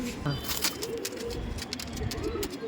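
Andra pigeons give short, low cooing calls close by, with sharp flutters and clatter breaking in while people speak nearby.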